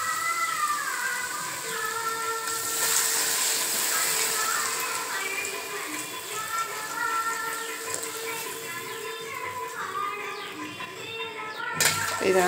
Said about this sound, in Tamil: இப்போ இந்த காய் வேகிற அளவுக்கு நம்ம தண்ணி ஊற்றிக்கலாம்